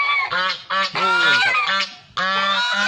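Several geese honk loudly and close by on a Thai mixed farm, with a run of harsh, overlapping calls broken by short pauses and no voices between them.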